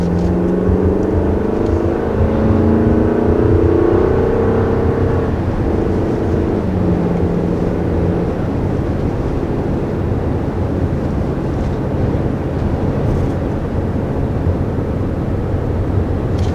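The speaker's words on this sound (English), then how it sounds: "as far as acceleration, it definitely handled coming up this hill here with ease" A 2020 Toyota RAV4 accelerating up a hill, heard from inside as a steady engine and road drone that climbs in pitch early on, then settles into a broad rumble with wind noise.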